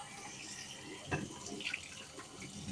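Cooler tap water runs quietly over an aquarium canister filter being rinsed in a sink, a soft continuous flow with a brief splash partway through.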